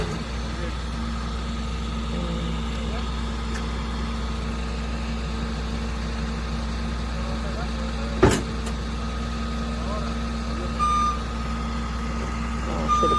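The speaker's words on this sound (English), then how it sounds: "This shit gonna be loud every time I back up." A new van's reversing alarm beeps steadily over a low engine idle hum, with some quiet voices in the background.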